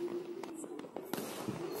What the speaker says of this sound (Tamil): ஒசூரில் ஃபுல்லாகவே மொட்டை மாடியில் எல்லாருமே வந்து வெடி வந்து வச்சுட்டு இருந்தாங்க.